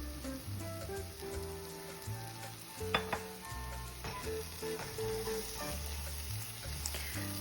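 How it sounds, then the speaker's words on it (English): Pav bhaji masala with vegetable puree and coriander powder, bubbling and sizzling in a pan while being stirred, soft steady frying with occasional spoon scrapes and a brief clatter, no voices. "Add a little bit of coriander powder and just mix it well and let it cook and simmer."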